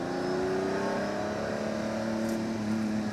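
A Lamborghini Countach 25th Anniversary engine accelerates with a steady, loud drone whose pitch climbs smoothly through a rev, heard from close by inside the car without talk.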